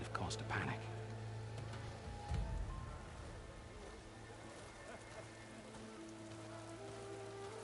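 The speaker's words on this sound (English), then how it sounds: "Rain." Rain in Horizon Forbidden West falls as a soft, steady patter across the landscape, with a few brief thumps and voices talking over it.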